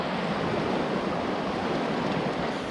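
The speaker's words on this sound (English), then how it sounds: "This is a river. It was a creek. Now it's a river." A flooded Ohio creek swollen into a river rushes past in a loud, dense, continuous roar of churning water, close and steady with no letup and no voices.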